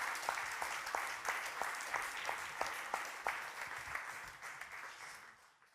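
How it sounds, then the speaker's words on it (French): Conference audience applauding steadily at a French economic colloquium, a dense wash of many hands clapping that holds fairly even before thinning and fading out at the end. "Vous pouvez les applaudir."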